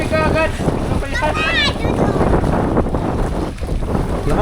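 Strong wind buffets a small fishing boat out at sea, roaring and thumping against the microphone, with a voice speaking over the gusts and faint whistling tones early on.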